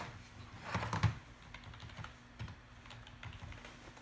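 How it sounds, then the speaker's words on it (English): Keys tapped on a brand-new wired keyboard connected to a Windows 10 laptop, with scattered soft keystrokes and a brief louder flurry near the start, all close and fairly quiet over a faint hum. "Now let's use our brand new keyboard and mouse to type something."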